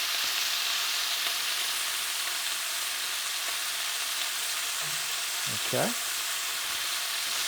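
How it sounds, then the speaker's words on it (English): Beef sears in a hot pan for beef with green pepper, black bean and garlic, giving a steady, even sizzle throughout, with a brief voice near the start. "If you start stirring straight away, you will not caramelize it."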